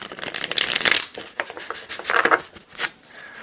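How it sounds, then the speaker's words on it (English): Tarot cards riffled and shuffled close up, a quick rapid flutter of papery snaps, then a few slower slaps and a brief second riffle. "I'm going to do one more shuffle here before we go on."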